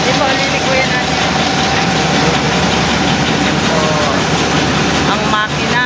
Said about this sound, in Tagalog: Para hindi nag-iinit ang makina may tubig.